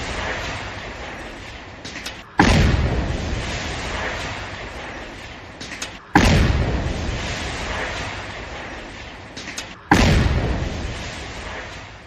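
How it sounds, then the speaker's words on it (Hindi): Powerful blasts at a militant's house in Kashmir, three heavy booming explosions spaced several seconds apart, each one rumbling and echoing away slowly. "धमाके की गूंज सुनिए।"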